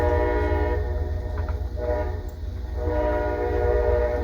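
A train horn blares loud and steady for several seconds over the low rumble of a passing train, dipping briefly midway before sounding again, with no voices.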